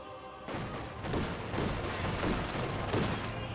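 Company of Heroes 2 battle with Conscript infantry under fire from two Grenadiers: dense, continuous rifle and gunfire crackle with a string of rapid shots and thuds, loud and sustained throughout with no talking.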